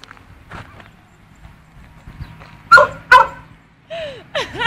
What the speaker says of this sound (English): This is a dog fighting with the mop.